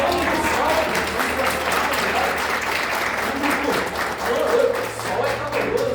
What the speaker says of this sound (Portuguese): Muito obrigado pelas palmas